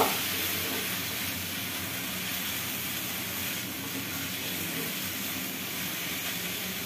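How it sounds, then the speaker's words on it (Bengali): Dried fish (shutki) frying in a pan gives a steady, dense hiss that holds at an even level throughout with no talking. "একটু ভাজা ভাজা হোক, তারপরে বাকি মশলাগুলো দিয়ে দেবো।"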